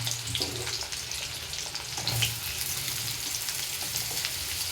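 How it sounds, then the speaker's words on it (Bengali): Diced potatoes fry in hot oil for an egg curry, giving a steady close crackling sizzle throughout with no talking. "আলুগুলোও ভেজে নেব।"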